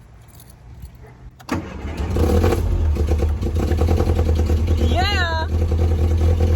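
An MG car engine cranks with a short click and clatter, catches, then settles into a loud, steady idle held slightly open to warm up, with a brief whoop of excited voices over the running engine.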